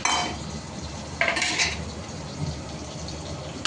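Prawns tumbling into a pot on a high gas flame, with metal clatter and scraping of a spoon stirring, a couple of brief bright clanks standing out over a steady low hiss.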